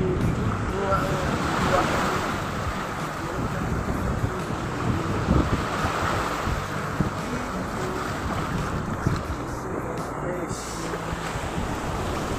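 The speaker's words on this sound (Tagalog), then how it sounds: "Lalaking alon." Loud, constant roar of rough ocean surf on a shallow shore and wind buffeting the microphone, heavy crashing water without a break, close by.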